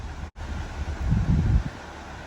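Wind buffeting a microphone beside a river lock on the River Nene during a narrowboat trip, a steady rough low rumble that swells midway, with one brief dropout near the start and no talking.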